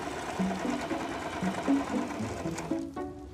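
Sewing machine stitching a wool pillow held with pins, a steady close mechanical whir with short bursts of stitching that start and stop, running alone without talk.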